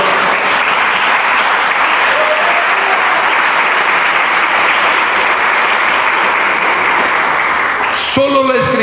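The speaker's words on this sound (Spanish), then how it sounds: "Dale un aplauso a Cristo Jesús." A church congregation applauding, a dense, loud, sustained wash of clapping from many hands that fills the room and stops abruptly near the end as a voice begins to speak.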